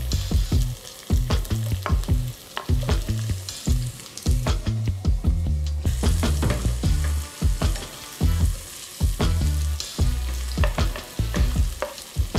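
Onion and ginger sautéing in a pan for Filipino chicken tinola, a loud continuous sizzle broken by repeated scraping and stirring strokes, close up with no voices.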